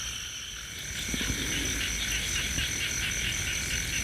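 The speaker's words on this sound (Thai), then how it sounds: "วันนี้ก็เงียบค่ะแต่ผู้ชมได้ยินแต่เสียงกบเสียงเขียด" Frogs croak at night in rural Thailand, a steady, dense chorus of shrill, insect-like trilling that runs throughout, close and continuous, with no talking.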